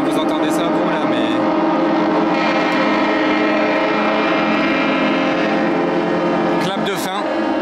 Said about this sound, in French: Vous entendez tous les bateaux pour la fin du yacht show qui se font entendre.